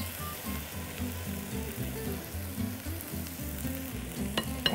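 Shrimp frying in a pan with orange and soy sauce, a soft continuous sizzle under a low rhythmic hum, fairly quiet and steady with a brief clatter near the end.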